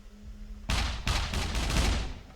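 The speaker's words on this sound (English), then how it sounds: "I can hear the mechs shooting there over to my left" Guns fired by mechs in the Scum video game, a rapid run of four or five loud, sharp bursts of gunfire over a few seconds after a brief quiet lead-in.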